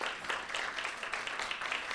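An audience claps steadily in a dense, even round of applause for a tutor at a library literacy tutor recognition event, filling the room at a constant level.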